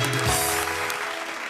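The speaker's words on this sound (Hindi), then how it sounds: "जोरदार ताली से स्वागत कीजिए बुलंदशहर से आए हमारे कवि आलोक बेजान जी का।" Audience applause welcomes a visiting poet at a televised poetry and comedy show, a broad clapping wash with musical tones and a swell running underneath, fading slightly toward the end.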